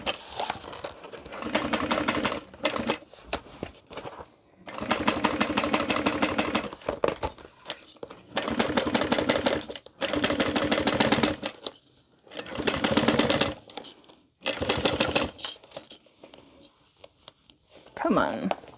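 A sewing machine stitches a handbag in repeated runs of fast, rattling motor bursts separated by short pauses, fairly close and loud, with a voice speaking briefly between runs.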